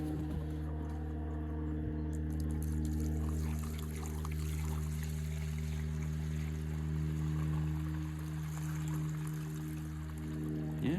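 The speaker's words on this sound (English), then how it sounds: "I'm just going to dump it and get rid of the old stuff" Old fuel being dumped out of a John Deere snowblower's tank, a continuous liquid pour and trickle over a loud steady engine-like hum, close by and without speech.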